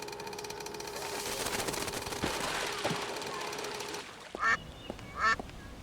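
Two quick bursts of duck quacking ring out in the Secret Files 2 video game after a stretch of buzzing, mechanical background sound.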